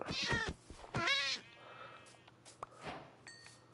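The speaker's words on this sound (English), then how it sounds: "I'm taking your cat." A Minecraft cat gives a couple of clear, fairly close meows, followed by quieter game sounds and small clicks.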